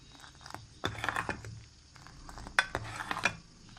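A spoon stirring pistachios and almonds through Kashmiri pink tea in a pan, soft scraping and clinking in a few separate bursts with quiet gaps between.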